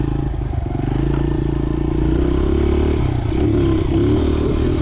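A motorcycle engine running steadily while riding, a low constant drone with some clatter and wind rumble throughout, close and loud, no talking.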